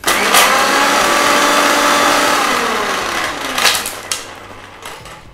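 A kitchen blender runs steadily on ghewar batter, a loud continuous motor whine with a few brief knocks and surges toward the end as it winds down.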